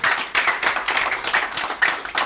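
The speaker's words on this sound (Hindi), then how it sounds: "मैं चाहूँगा जोरदार तालियां होनी चाहिए" Dense, steady clapping from an audience at a Mi Life meeting in Kadipur, a continuous wash of many hands close by without a break, loud and unaccompanied by talk.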